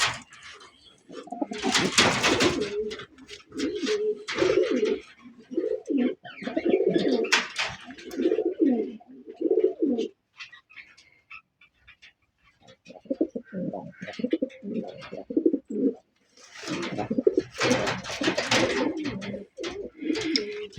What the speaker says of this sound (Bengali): আমি একটু ডাকটা দেখাই নরের